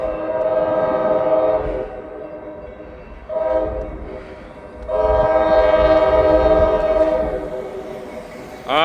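A northbound train on a cold, windy morning in Hamilton sounds its horn at a level crossing in several long, loud blasts with short breaks between them, while wind rumbles underneath.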